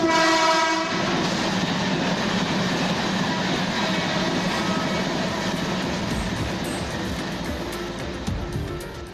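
The IRCTC Delhi–Lucknow Tejas Express, a private passenger train, passes with a loud horn blast at the start, then a steady, close roar of carriages and wheels running on the track throughout.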